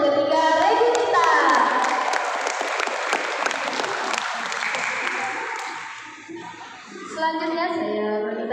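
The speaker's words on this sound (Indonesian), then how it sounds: "Beri tepuk tangan untuk ketiga regu kita." Audience at a school mathematics competition final applauds three teams, sustained dense clapping from a crowd that fades briefly near the end, then picks up again.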